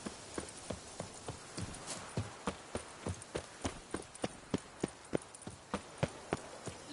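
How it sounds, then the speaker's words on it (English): Horse hooves galloping in The Witcher video game, a steady, close clip-clop rhythm of many beats over a low ambient background, with no talking. "Even a horse drops if you ride it with a constant gallop."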